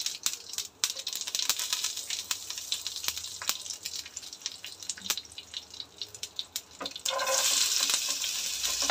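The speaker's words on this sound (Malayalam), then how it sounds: "ഇച്ചിരി ഓയിൽ ഒഴിച്ചിട്ട് ഇത്തിരി കടുക് ഇട്ട് പൊട്ടിച്ചിട്ടുണ്ട്." Mustard seeds spluttering in hot oil in a kadai in a home kitchen, rapid sharp pops and crackles over a sizzling hiss that grows louder and denser near the end, with no talk.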